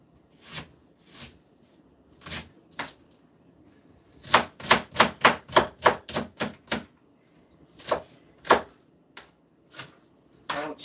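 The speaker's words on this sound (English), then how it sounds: "I'm chopping up 1 whole onion." A knife chopping a whole onion on a board, crisp sharp cuts coming singly at first, then in a fast run of about ten, then in scattered pairs, close and clear with no talk.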